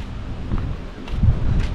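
Cold wind blowing outdoors near a forest, a steady low rumbling buffet against the microphone that swells and eases over under two seconds, with no voices.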